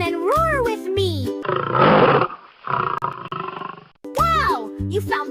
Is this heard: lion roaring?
yes